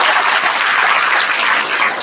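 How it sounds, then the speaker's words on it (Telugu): A room of students claps loudly together, a dense, continuous round of applause close by, with no talk over it. "ఒకసారి మీకోసం మీరు గట్టిగా చప్పట్లు కొట్టుకోండి సార్"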